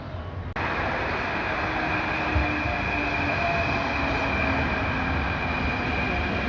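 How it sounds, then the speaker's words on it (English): Interior of an Athens metro train in motion, with a steady loud rumble and wheel roar that starts abruptly after a brief moment and continues evenly, with no talking. "Just got off the metro."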